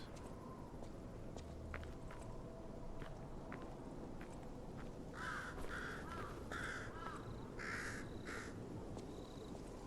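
A weird-looking green bird caws in the video game Lies of P. A run of several harsh caws comes in the back half, over a steady low ambient rumble with faint clicks and footsteps.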